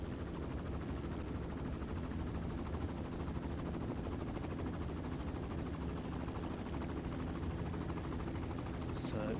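Helicopter filming a cycling race stage in Qinghai, China, heard as a steady, continuous rotor and engine drone that holds at an even level throughout, with faint crowd or commentary murmur mixed underneath.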